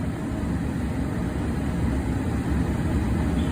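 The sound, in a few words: Ford Transit van engine running after starting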